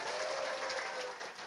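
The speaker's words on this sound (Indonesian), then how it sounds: "Tepuk tangan dulu dong." Audience applause at a lively Javanese comedy show with gamelan gending music: dense, steady clapping from a crowd, fairly loud and continuous throughout, with no talk over it.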